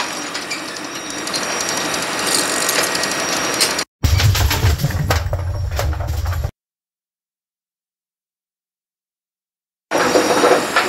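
A Brunswick A2 bowling pinsetter's gearbox and clutch run and cycle with steady mechanical ratcheting and gear clatter, then a heavy low rumble as the machine works, cutting to silence before the grinding mechanism resumes near the end.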